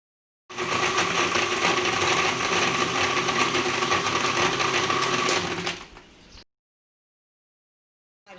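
Electric blender whirring loudly and steadily for about five seconds while blending a mint margarita with soda and ice cubes, a close motor drone that winds down and stops.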